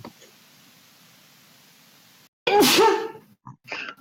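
A single loud, sharp sneeze bursts out after a stretch of near silence during a Call of Cthulhu tabletop session, followed by a few brief breathy sounds.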